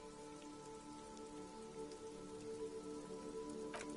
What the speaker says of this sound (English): This rain will not let up anytime soon.